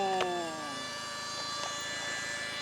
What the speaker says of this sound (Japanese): うなる燃料ポンプ